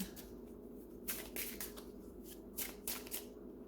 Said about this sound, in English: So let me draw a portal card.